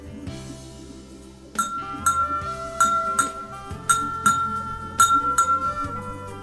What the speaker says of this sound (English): when you bang this glass, you will get some different sound